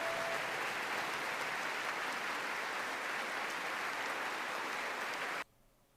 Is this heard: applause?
yes